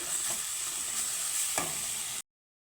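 Spices stirred into watermelon rind in a frying pan, with a steady close sizzle and soft scraping strokes that run for about two seconds before cutting off.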